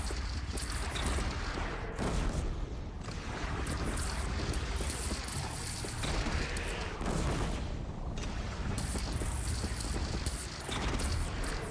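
Explosions bringing down a bridge in Horizon Zero Dawn Remastered, heavy booming blasts and rumbling debris rolling on in waves over a steady roar, loud and sustained with a few sharper bursts.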